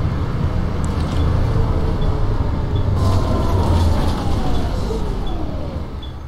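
Volvo B7L bus engine in the OMSI 2 driving game, a continuous low diesel rumble with rolling road noise and faint higher whine, steady and close with no talking.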